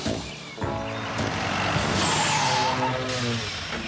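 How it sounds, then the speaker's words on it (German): A small red cartoon tractor revs up and accelerates, with a loud steady engine roar and a rising hiss that hold strongly throughout, without any talking. "Gib Gas, Traktörli. Du schaffst es."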